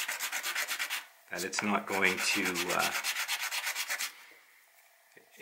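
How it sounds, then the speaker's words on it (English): Rhythmic strokes of sandpaper rub along the edges of a piece glued with contact cement, close and distinct in a quick back-and-forth pattern, briefly broken by a single spoken word. "I'm gonna give the edges a little sand."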